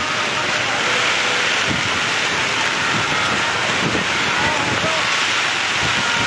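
Heavy rain and strong wind lash refugee tents at night after a magnitude 6.1 earthquake in Pasaman, a steady dense roar of wind and downpour throughout with a voice talking over it.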